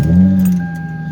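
A Toyota Solara with a starter that sometimes hesitates to engage, giving a short, loud, steady low engine drone close by, with a faint jingle of keys over it.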